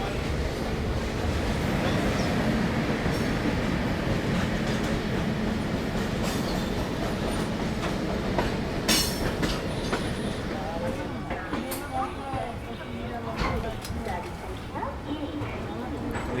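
The Thirukkural Express nears Vijayawada Junction with a constant close rumble of wheels and coaches, some clickety-clack and faint squeals, and voices can be heard inside the carriage.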